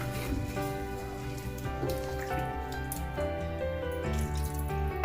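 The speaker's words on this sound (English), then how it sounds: "we just add a little bit of water, about half a cup to 1 cup" Water pours into a pot of potatoes for jackfruit biryani with a rising hollow gurgle, pitch climbing in steps as it fills, close and steady, no talking.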